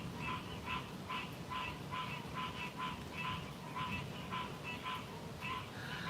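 Frogs croaking in a steady rhythmic chorus of short repeated calls, evenly paced pulses over a low background hum, with no voices.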